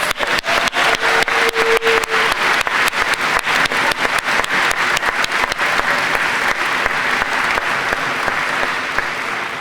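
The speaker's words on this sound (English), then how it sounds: "Can we give our faculty and staff a round of applause?" Sustained crowd applause at a 2023 Greensboro Day School graduation ceremony, honoring faculty and staff; dense, steady clapping fills the whole stretch at close, loud level with no talking over it.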